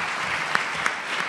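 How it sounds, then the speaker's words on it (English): An audience applauding Bob at a talk about rock and roll photography, continuous mixed clapping with a couple of sharper individual claps standing out. "another round of applause for Bob."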